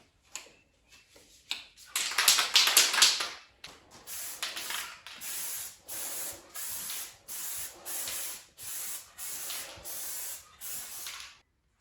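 Undercoating sprayed from an aerosol can onto a classic muscle car's interior door panel: one long loud hiss, then a steady run of about nine short even bursts, close to the mic and with no talking.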